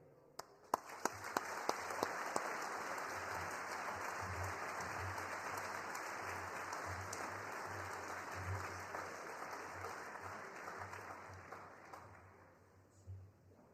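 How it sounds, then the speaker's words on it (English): A crowd applauds at a military skills competition awards ceremony, beginning with a few sharp claps before swelling into sustained, even clapping for about twelve seconds and then tapering off, with a low hum underneath. "giving you a big round of applause for doing an incredible job here"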